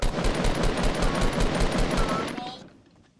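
Rapid automatic gunfire in Fortnite rattles in a fast even burst for over two seconds, loud and close, then cuts off and fades, with a voice speaking over it.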